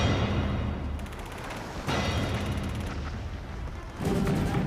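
Continuous heavy rumbling of gunfire and artillery in darkness during the 1942 St Nazaire raid, with dense booming bursts that surge and fade in overlapping waves.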